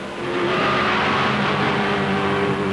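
A 1971 racing car, likely a BRM, on its warm-up laps at Oulton Park, a loud sustained engine howl rising quickly and holding steady close by, with no voices over it.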